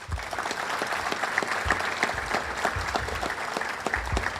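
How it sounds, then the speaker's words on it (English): Sustained applause from an audience at a county sheriff's office law enforcement awards ceremony, with dense steady clapping running evenly through the whole stretch. "A round of applause for all of our recipients tonight."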